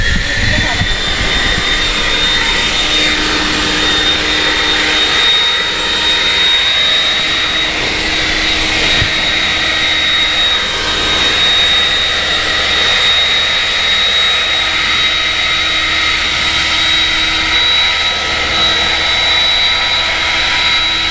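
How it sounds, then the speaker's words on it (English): A cordless leaf blower runs loud and steady at close range, a continuous high-pitched whine with airy rush that holds unchanged for the whole stretch. "And finally, the blower."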